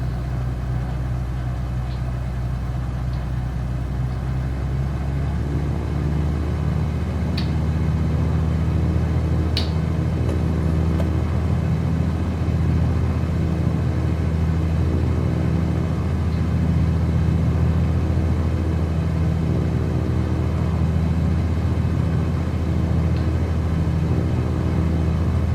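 A small aircraft taxis on a runway, its engine holding a steady, close, loud droning rumble with a constant hum throughout and no talking.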